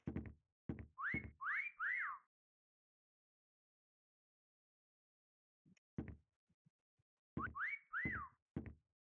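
A person whistles short rising-and-falling notes in two separate phrases with a silent gap between, close and clear, accompanied by a few knocking clicks.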